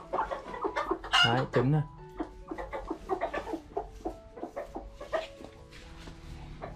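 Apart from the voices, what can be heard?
brooding mother hen clucking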